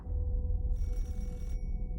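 A telephone rings once late at night, a brief electronic trill starting shortly into the moment and cutting off after under a second, over a low hum.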